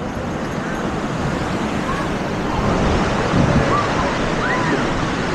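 Ocean waves washing onto a littered beach with seaweed, a continuous loud roar of surf mixed with wind noise, with no voices.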